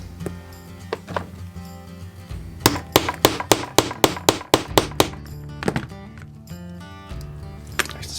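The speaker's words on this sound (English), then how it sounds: "And we hammer home." Rapid, evenly spaced hammer blows drive rivets into a leather rucksack strap, about a dozen sharp close knocks in a steady run with a few scattered taps before and after, no talking.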